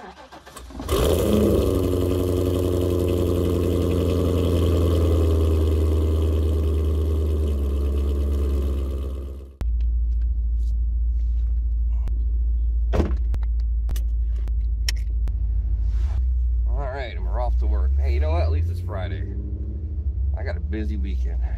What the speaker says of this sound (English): Do a cold start.